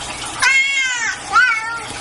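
Two clear cat-like meows, the second shorter, loud and close with no talking, set against faint watery background noise.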